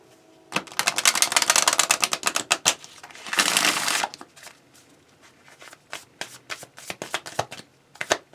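Animal apothecary oracle cards are shuffled by hand in quick riffling bursts, crisp papery flutters and taps, close and fairly quiet, pausing briefly before resuming in shorter clusters.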